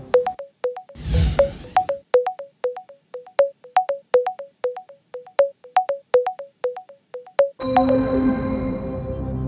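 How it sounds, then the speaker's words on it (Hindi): A phone call rings out on the TV quiz show Kaun Banega Crorepati, a loud electronic ringing tone repeating in regular pulses for several seconds before a musical sting swells at the end. "कंप्यूटर महाशय दिव्यांशु सिंह जी को कॉल लगाया जाए"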